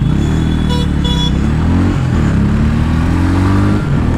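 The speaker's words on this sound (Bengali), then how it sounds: "এরকম কিছু হর্ন, মানে লাউড হর্ন।" A Bajaj Pulsar N160 motorcycle gives two short, sharp horn toots over the loud, steady drone of its running engine during a ride.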